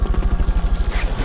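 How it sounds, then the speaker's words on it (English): A helicopter is Fulton-recovered in Metal Gear Solid: Peace Walker, heard as a brief, loud, rapid rotor chop that pulses evenly and steadily throughout. "Fulton recovered a helicopter."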